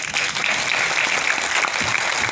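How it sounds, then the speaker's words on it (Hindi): Audience at an international conference on the cyber world applauding the organizers, a sustained burst of dense clapping, loud and close, lasting the full couple of seconds without speech over it. "आयोजकों को ताली बजाने में कंजूस मत बने।"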